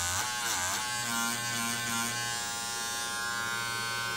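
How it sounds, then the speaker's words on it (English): Wahl hair clippers fitted with a 7000 RPM brushless motor run close by with a steady, high electric whine, pitch wavering briefly at first and then settling into a constant drone. "this is a brushless motor for Wahl clippers, 7000 RPM"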